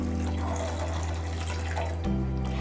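A steady stream of 1.5 cups of water pours into a cooking pot for pachadi, a continuous close splashing rush that deepens slightly as the pot fills.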